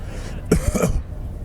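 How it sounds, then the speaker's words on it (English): A character in the Warhammer 40K: Rogue Trader video game clears his throat once in a short, close rough burst, then goes quiet over faint background ambience. "After clearing his throat and presenting his interrogator's regalia, Heinrich pronounces imperatively"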